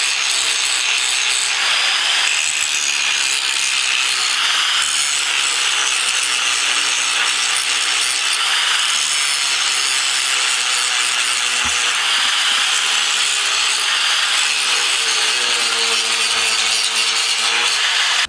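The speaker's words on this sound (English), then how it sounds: "So we got to grind down the old welds off these spindle mounts" A power grinder works steadily on metal, grinding old welds off go-kart spindle mounts during a two-stroke kart front-end build. The harsh, continuous abrasive noise runs loud and unbroken throughout, with no talking.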